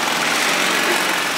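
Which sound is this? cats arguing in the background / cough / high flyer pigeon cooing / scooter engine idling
scooter engine idling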